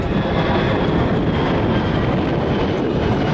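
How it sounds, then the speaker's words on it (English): A Boeing 767-based aerial tanker flies past at a military open house and airshow at Joint Base McGuire-Dix-Lakehurst, giving off a loud, continuous jet roar with a dense low rumble and a steady high whine throughout. "Based on the Boeing 767, this aircraft is a monster"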